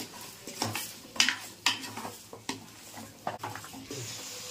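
A spoon scrapes and clinks around a pan as chilli powder, cumin powder, coriander powder and salt are mixed into a chicken curry, with irregular close metallic knocks over a faint sizzle and no talking.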